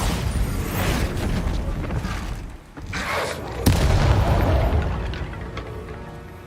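A Bombarda spell explodes in the video game Hogwarts Legacy, a loud, dense burst of booming, crackling blast noise that dips briefly and then surges again with a sharp hit, filling the whole stretch.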